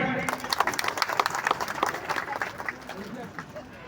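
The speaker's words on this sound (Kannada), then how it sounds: "ಜೋರಾದ ಒಂದು ಚಪ್ಪಾಳೆ" An audience at a comedy program during the Amareshwar Appaji Gurusmaranotsava gives a loud round of applause, a dense, fast patter of many clapping hands that gradually thins out toward the end.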